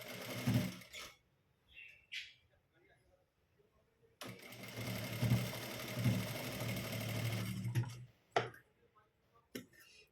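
A sewing machine stitches a shoulder seam on a garment, with a short buzz at the start, then a sustained close whirring run of about four seconds, separated by quiet gaps with faint handling clicks and a voice between runs.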